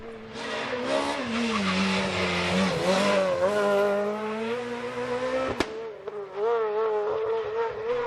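A Renault Clio R3 rally car on a special stage of the Manx National Rally, its engine droning and shifting pitch steadily as it passes, with tyre squeal and a sharp crack near the end.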